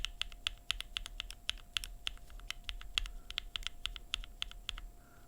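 Rapid, steady typing on a mechanical keyboard fitted with lubed linear switches, each keystroke a crisp, close, evenly paced click with no one speaking.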